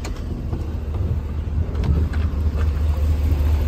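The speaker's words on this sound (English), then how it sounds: "this is a very, very quiet engine" 2018 Isuzu NPR landscape box truck with a 6-liter Vortec gas engine runs with a low, steady, quiet rumble, a smooth continuous drone heard nearby with faint rattles on top.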